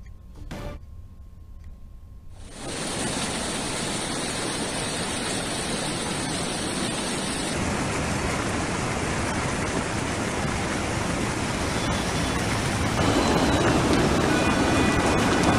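Heavy floodwater roars through the Mukkombu barrage on the Kaveri at Trichy, a dense continuous rushing wash that swells in after a brief quieter start and stays loud and steady throughout.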